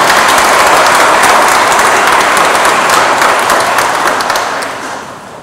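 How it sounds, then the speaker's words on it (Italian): A large crowd claps steadily and loudly at a gathering in Cepagatti, Italy, a dense wash of applause that holds strong before tapering off at the end. "facciamo un applauso grande a questo"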